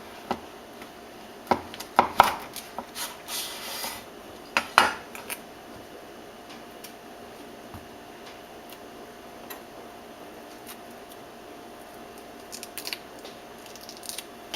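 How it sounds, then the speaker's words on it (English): A kitchen knife slices a ripe, slightly soft avocado into long thin strips on a board, giving a few sharp taps and scrapes early on, then long quiet stretches with faint clicks toward the end. "Slice up the avocado into long, thin slices."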